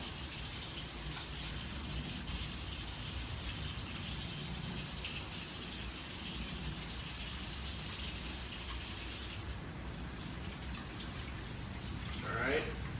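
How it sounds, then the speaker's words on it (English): Hands are washed under a running tap at a kitchen sink after handling fish, a steady broadband hiss of water pouring without pause for the whole stretch, close and moderately loud. "I'm just gonna wash my hands again"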